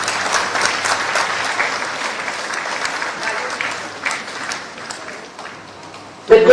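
An audience applauds steadily and loudly at an MOU signing ceremony between a state government and HCL, a dense wash of clapping that fades slightly before a sharp sound at the end.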